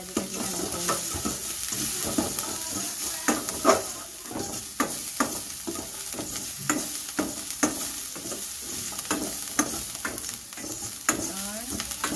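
Garlic and dried salted fish fry in a pan while being stirred, a steady sizzle broken by repeated scraping strokes of a utensil against the pan, close and fairly loud with no talking.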